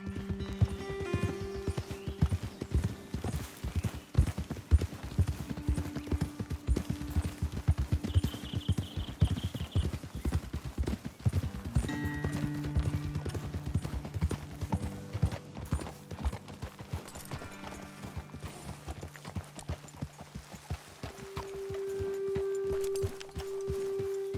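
Horse hooves clip-clop in a steady walking rhythm in the video game Red Dead Redemption 2, close by, with occasional creaks of gear and a faint whinny partway through.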